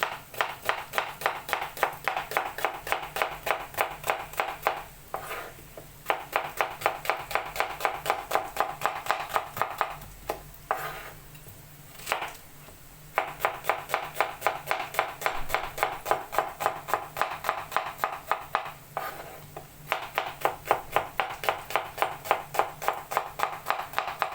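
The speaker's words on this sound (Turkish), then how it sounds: "Önce soğanları ince ince kıyalım." A knife chops onions finely on a board for a Turkish sumac onion salad, a fast steady run of crisp taps that pauses briefly a few times before resuming, close and clear with no talk.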